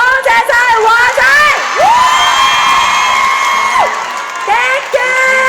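A concert crowd at a show at apm cheers and screams loudly, with high-pitched shrieks and whoops rising and falling over a dense roar and some scattered clapping.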